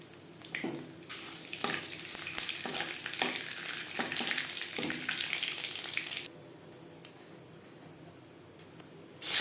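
A bay leaf and five-spice seeds hit hot oil in a kadai, sizzling loudly with crackles and stirring scrapes for several seconds before the frying drops to a quieter hiss.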